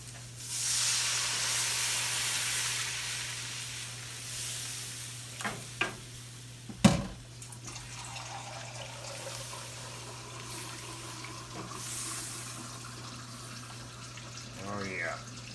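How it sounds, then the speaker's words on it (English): Water poured into a hot pan of browned pork chops for smothered pork chops, giving a broad steamy sizzle and hiss with stirring and a few sharp clinks, loudest at the start and easing off. "I'm gonna add my water to this."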